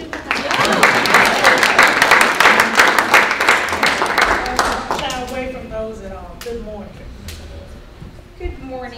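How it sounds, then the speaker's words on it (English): Audience clapping at a 2016 municipal candidate forum in Lubbock, Texas: a burst of dense applause fades over about five seconds into scattered claps, with a voice talking over the dying end. "You can clap if you'd like."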